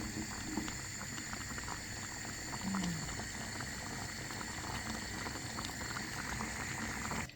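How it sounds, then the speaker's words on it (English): A pot of thick dish simmering in a Jamaican home kitchen, a steady close bubbling and gurgling with a low rumble underneath, continuous and even throughout, without speech. "I'm gonna let it boil a little more"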